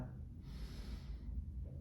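Deep inhale during a yoga pose, a soft airy breath rising gently and fading after about a second, faint and close with no talking.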